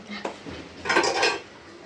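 Ceramic plates clink and knock together as they are stacked, a few close, brief clatters with a louder burst near the middle.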